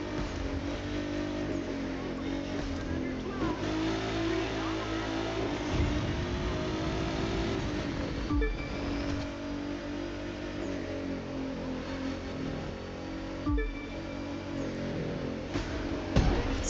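Car engine in the racing game The Crew 2, during a race with a bridge and a chicane before the finish, droning and revving continuously at a steady, fairly loud level throughout.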